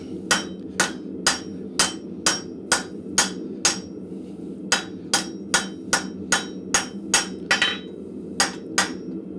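Hammer blows cleaning up a freshly set rivet on blacksmith tongs in a forge shop. About twenty sharp, ringing metal strikes come in a steady, even rhythm, close and loud, with a short pause partway through.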